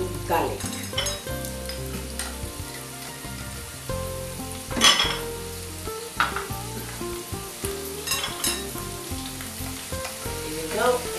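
Onions, ginger and garlic frying in hot oil, with a steady close sizzle and occasional stirring scrapes and clinks of a utensil in the pan throughout.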